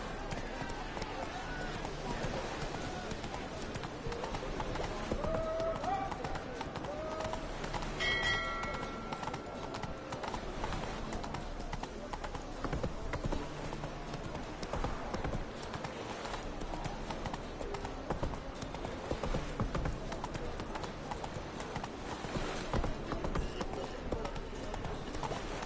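Horse hooves galloping in The Witcher 3, a steady rapid clip-clop rhythm running throughout with game music and background ambience, while a voice speaks over it.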